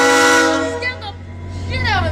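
A train passes nearby while its horn blares: a loud sustained chord that fades into rumbling wheels and then sounds a second time, with voices underneath.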